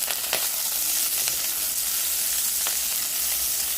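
Diced onions sizzle and fry steadily in a very hot pot, with a constant close hiss and a few brief crackles and pops, and no voices.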